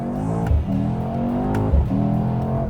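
A Mercedes-Benz E63S engine roars steadily as its gearbox snaps through quick upshifts, each shift a brief dip and pop in the drone, about three clean changes in under three seconds, loud and close.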